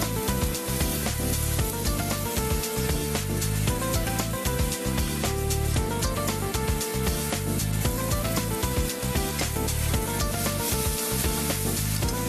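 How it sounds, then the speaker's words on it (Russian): Quail on a grill over low heat sizzle and crackle steadily and close up, with music playing underneath throughout. "надо как-то все жарить на тихом, медленном огне, чтобы получилась корочка."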